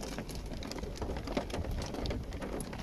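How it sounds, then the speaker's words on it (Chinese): Hail falling during a storm on a hot day on the road in Tibet, a dense steady patter of many hard impacts with occasional louder strikes, close and continuous with no talking. "多热的天气啊，你还下冰雹？"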